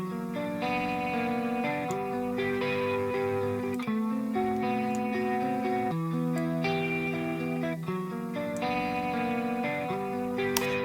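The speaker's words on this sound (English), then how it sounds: "Yeah, I really like the sound of the cassette in this kind of source sound, so with this electric guitar." Clean electric guitar run through a cassette tape saturation pedal, playing sustained chords that change every couple of seconds, warm and steady with no talking.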